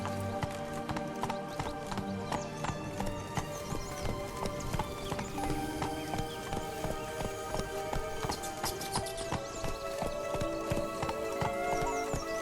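Horse hooves clip-clop at an even trot in The Witcher 3: Blood and Wine, a steady rhythmic clatter with occasional snorts beneath a layer of game music.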